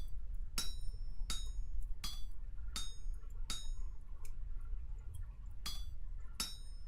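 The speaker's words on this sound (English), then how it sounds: "Tapping away." Hammer striking metal on an anvil while smithing in Vintage Story: about eight bright, ringing clinks at a fairly even pace, close and clear over a low background hum, with no talking.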